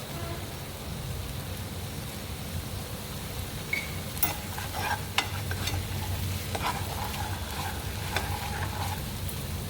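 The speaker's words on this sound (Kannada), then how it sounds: "ಹಾಗಾಗಿ ಥರ ಚೆನ್ನಾಗಿ ಫ್ರೈ ಮಾಡ್ಕೊಳ್ಳೋಣ" Frying in oil in a pan with steady stirring, a continuous hiss of sizzle broken by occasional scrapes and clinks of a utensil, close and fairly even throughout with no talking.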